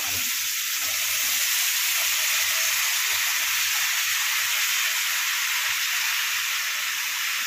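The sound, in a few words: vegetables frying in oil with turmeric and salt in a kadhai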